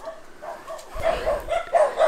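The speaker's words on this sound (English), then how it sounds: "right here where these dogs are barking" Several dogs bark in repeated short bursts along an overgrown mountain hiking trail, moderately close and growing busier toward the end, with no talk over them.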